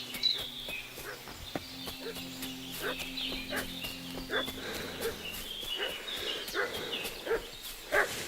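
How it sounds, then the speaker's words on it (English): A dog barks repeatedly at middling distance in the medieval role-playing video game Kingdom Come: Deliverance II, with scattered rural ambience and faint farm birds around it. "What's that dog making such a fuss about?"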